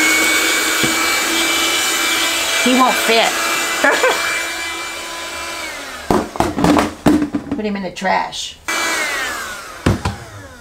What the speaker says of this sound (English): I have my little rechargeable vacuum cleaner in here.